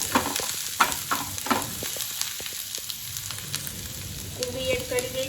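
Chilies and chopped onion fry over a low flame in a pan for a momo filling, making a close, lively sizzle while a spoon stirs and scrapes repeatedly, loudest at the start and settling into a steadier crackle.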